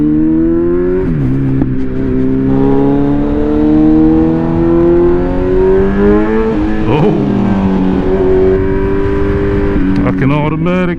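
A Kawasaki Z900 motorcycle fitted with a performance ECU flash tune, pulled at full throttle: a loud, close engine note climbing steadily in pitch, with brief dips at gear changes.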